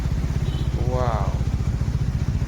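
A Bajaj Dominar motorcycle idles close by with a loud, steady low pulsing throb, and a brief voice passes over it midway.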